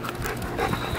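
Close, rapid panting from a dog, with quick breathy huffs at a steady moderate level and no talk over it.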